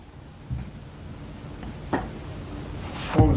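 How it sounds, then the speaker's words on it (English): A bed or nightstand creaks in a quiet room: a few brief, soft wooden knocks and creaks spaced apart over a low background hush, with a sharper one at the end. "I just heard like a creak, either on the bed or the nightstand, but something just creaked"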